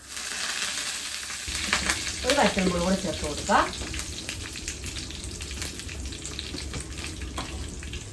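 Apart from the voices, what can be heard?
mustard seeds spluttering in hot oil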